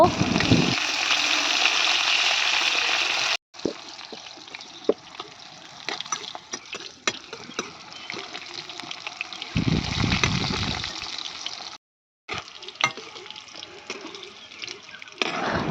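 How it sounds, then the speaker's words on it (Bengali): Pointed gourd (potol) frying in oil in an outdoor rooftop kitchen, a loud sizzling hiss that drops to a softer bubbling crackle, with brief gaps and occasional louder bursts. "আর তেলের মধ্যে দিয়ে দিলাম অল্প অল্প করে একটু দিয়ে ভেজে নেব"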